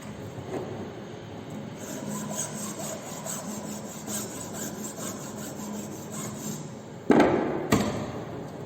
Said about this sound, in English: So we are using flat file for finishing the ends of the mortise.